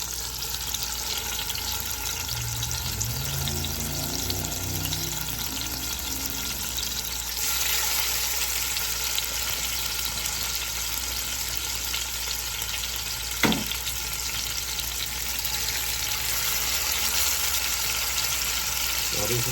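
Marinated oxtails fry in vegetable oil in a Dutch oven, a continuous hiss and crackle that stays fairly even throughout, with a brief sharp clink near the end and faint background voices.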